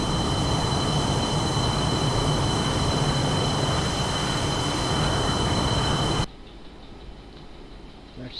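JF-17 Thunder Block II jet engine throttling up on the runway, a loud, steady roar with a high whine that runs for about six seconds, then cuts sharply to a much quieter hum.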